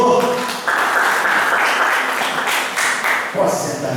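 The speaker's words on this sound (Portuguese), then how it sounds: "Vamos aplaudir a palavra do Senhor?" A church congregation applauds loudly and continuously, a dense wash of clapping that holds steady before thinning slightly at the end.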